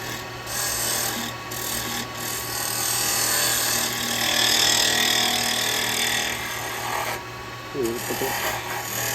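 A carbide woodturning tool cuts yew on a lathe, producing a continuous rasping, scraping hiss over the steady motor hum, close up, with a brief voice near the end.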